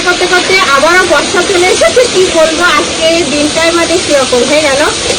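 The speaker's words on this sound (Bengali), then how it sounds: "মাংসের সঙ্গে কষে নেব" Chicken sautés with spices in a pan in a village-style curry, a steady loud sizzle running under a continuous voice.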